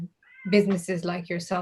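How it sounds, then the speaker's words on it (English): A house cat meows in the background of an online talk, a string of several short, rising and falling meows repeated in quick succession and mixed with a person speaking. "you can probably hear my cat in the background"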